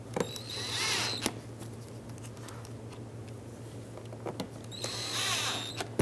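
A power drill drives T20 screws into a Nissan Pathfinder bumper in two short whirring bursts, close and moderately loud, with faint clicks and handling noise in between.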